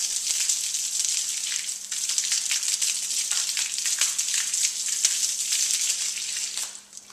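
Water sprays in a steady, close hiss as a bicycle hub gets a quick rinse during a bike wash, with slight ripples in intensity before the spray cuts off at the end.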